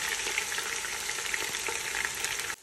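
Onion frying in a pan, a dense, steady hiss of sizzling with faint stirring scrapes, close and uninterrupted until it cuts off at the end.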